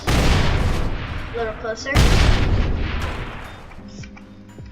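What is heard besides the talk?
explosions in People Playground video game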